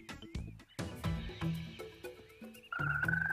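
A kids' math app plays a cartoon frog croak within a busy mix of short tonal game jingles and chimes, the bright, close effects ending on a rising sustained tone.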